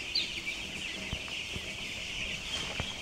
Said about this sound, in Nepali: आज यो कुखुरो 10 दिनको भइसकेको अवस्था हो